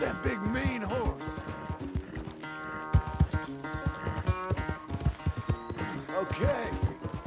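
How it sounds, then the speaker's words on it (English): Horse hooves clop in the video game Red Dead Redemption 2, a fast uneven run of thuds under background music and a voice. "Where's that big mean horse?"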